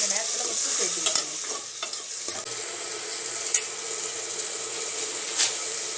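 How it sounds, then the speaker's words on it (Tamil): Chopped tomatoes and onions fry in a pan for a double beans kurma, hissing steadily under the scrape and clack of a stirring spoon in a few irregular strokes, close up, with no voices. "டொமேட்டோவும் நல்லா வதங்கி வரட்டும். அது வரைக்கும் நம்ம நல்லா கிண்டலாம்."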